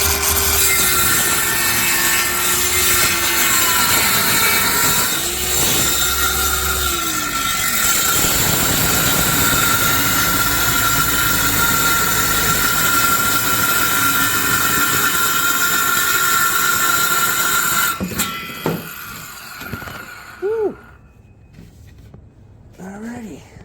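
A power saw cuts wood pieces for a resin pour form, a loud sustained whine and rasp lasting most of the time before stopping abruptly, followed by quieter clatter and a brief voice.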